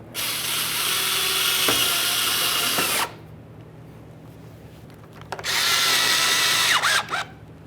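A power drill on a Ford Fusion reinstalling mounting bolts runs loud and close in two bursts, about three seconds each, with a quiet pause between them.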